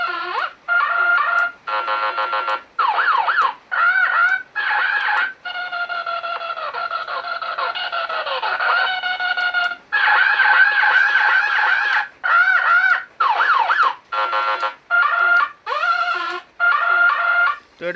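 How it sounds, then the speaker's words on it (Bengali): Electronic siren effects played loudly through a DJ amplifier pressure board, sounding as a series of warbling, sweeping bursts separated by short gaps, with one longer sustained wail in the middle. "তো একটু সাইরেন শোনাই"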